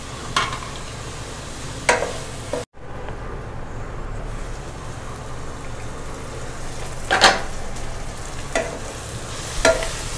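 Cumin seeds frying in hot oil in a pan, a constant moderate sizzle with a few sharp utensil knocks, a brief sudden dropout early on, then the frying hiss continuing with occasional stirring clicks.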